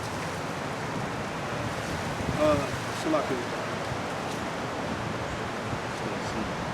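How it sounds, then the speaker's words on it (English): Wind blows outdoors as rain begins, a steady broad rush of gusty noise close to the microphone, with a brief spoken word over it. "It's getting windy, huh?"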